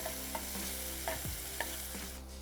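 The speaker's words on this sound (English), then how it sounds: "After that I will add finely chopped onion, 1 medium size." Finely chopped onion sizzles in a pan with crushed coriander seeds, a close steady frying hiss broken by several distinct spatula scrapes and taps as it is stirred.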